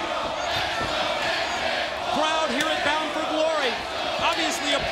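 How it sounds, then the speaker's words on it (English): At the Bound for Glory 2005 wrestling event, a large arena crowd roars and chants steadily for AJ Styles and Daniels, with a commentator talking over the constant cheering. "as you hear cheers for both Styles and Daniels"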